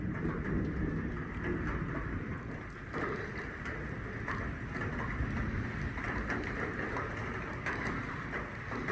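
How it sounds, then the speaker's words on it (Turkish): Steady heavy rain pouring in a garden during a thunderstorm, a dense continuous hiss at close range with no talk. "Yağmur bir an geliyor bir an gidiyor"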